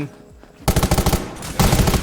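Loud, rapid bursts of shotgun fire in the video game Undawn crackle close by in two quick volleys, separated by a short pause.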